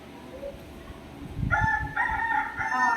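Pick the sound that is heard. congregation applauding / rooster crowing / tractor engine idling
rooster crowing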